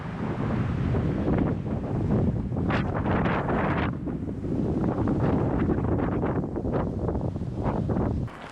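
Strong, constant wind buffets the microphone outdoors in the Arizona high country around Happy Jack, Pine and Strawberry, with loud broadband rumble and gusts that swell and ease for the whole stretch, no voices heard.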